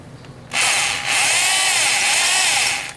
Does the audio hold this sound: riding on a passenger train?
no